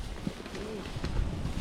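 Strong wind on a mountaintop buffets the microphone with a rough, continuous rumble, while people talk close by under the gusts.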